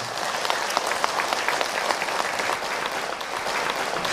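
Sustained, dense applause from a seated audience at an Islamic religious lecture, steady and even throughout with no voices standing out.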